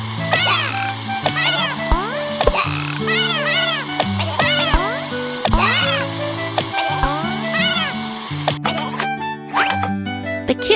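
A stray kitten meows repeatedly in short, rising-falling cries over a busy background of music-like tones, the meows clear and close throughout.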